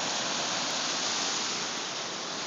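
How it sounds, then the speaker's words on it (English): Surf from the cold Northern California Pacific Ocean washes around people wading in it, a steady, quiet, broadband rushing hiss with no distinct breaks. "We're walking in the pretty cold Northern California Pacific"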